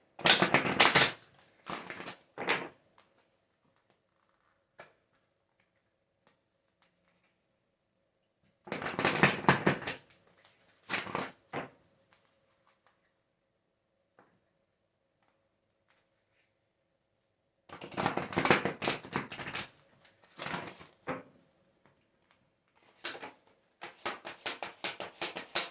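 Oracle cards being shuffled for a reading, heard as several crisp bursts of riffling and flapping card noise separated by long quiet gaps.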